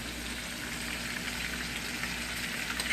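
Fajita-seasoned steak meat sizzles steadily in a hot pan over medium heat, a continuous crackling hiss heard close up with no talking.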